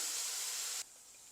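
Potato pieces frying in oil for a South Indian poriyal, giving a loud bright sizzling hiss that cuts off abruptly partway through and leaves a faint residual crackle.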